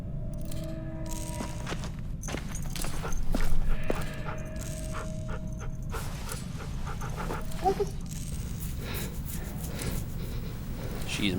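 A dog panting in The Walking Dead video game, steady rhythmic breaths under a low game soundscape, with faint footsteps and rustling and a brief louder swell mid-way.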